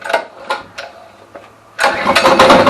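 A small go-kart engine on fresh petrol and oil is pull-started, with a few sputtering cranking attempts before it catches and runs loudly and roughly, close by.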